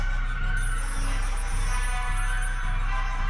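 A telephone rings in a horror video game with wolves set in a dark, grim world, its tone steady and repeating under a low, pulsing music bed, with short regular pauses in the low drone throughout.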